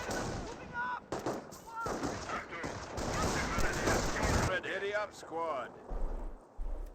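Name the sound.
rifle gunfire in video game Company of Heroes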